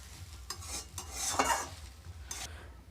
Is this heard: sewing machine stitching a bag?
no